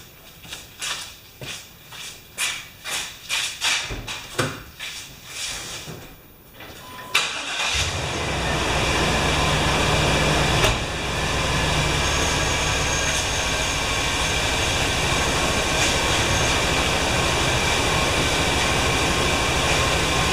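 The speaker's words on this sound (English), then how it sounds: "now I'm going to start the truck up and just let it run for a little bit" A 1998 Chevrolet truck engine, just fitted with a new thermostat, cranks through a series of rhythmic starter bursts before catching, then settles into a loud, steady idle that runs on without interruption.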